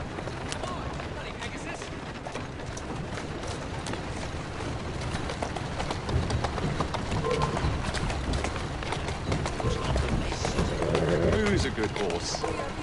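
Galloping horse hooves in the Assassin's Creed Syndicate video game, a steady rapid drumming of footfalls mixed with game ambience and talk, growing slightly louder toward the end.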